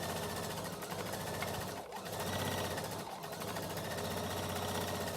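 Sewing machine closing a seam on a pouch, a continuous close mechanical whirring hum with rapid stitching rhythm, briefly dipping just before two seconds and again near three seconds.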